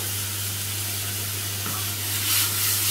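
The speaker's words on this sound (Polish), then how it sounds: "Masło, pamiętajmy, że jest dobrze rozgrzana patelnia, także musimy ją schłodzić borowicami od razu." Boletus mushrooms sizzle in butter in a well-heated frying pan over a strong flame, producing a steady, close hiss with a low background hum and no talking.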